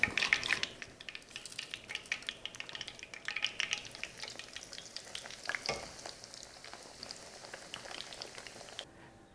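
Oil sizzles and crackles steadily as food fries for a cemita sandwich, a busy close hiss with scattered pops and a few clattery stirring touches, no talk.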